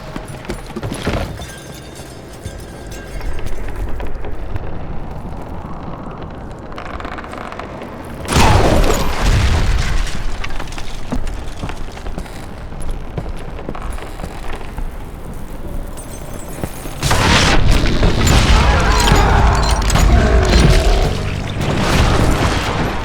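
Dynamite blasts in the Western shooter Call of Juarez: Gunslinger erupt as several deep, loud booms followed by long rumbling debris and creaking.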